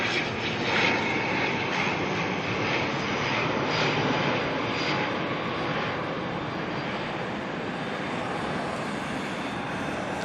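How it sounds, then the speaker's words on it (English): An ATR turboprop airliner arriving at Auckland Airport from Napier produces a steady, loud engine drone with a broad rushing roar that holds continuously throughout, without pause. "This ATR is coming in from Napier, NZ5022."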